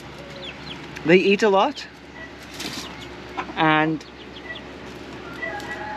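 Chickens in a coop on a Philippine chicken farm give a couple of short, close clucking calls between stretches of someone talking.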